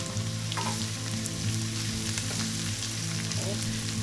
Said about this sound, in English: we just want to stir that around for a little bit and let all the onions and peppers get golden and soft and mushy